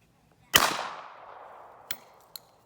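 A shotgun fires a beach sand round outdoors, one loud sharp blast followed by a long decaying echo tail, then two fainter short clicks or knocks afterward.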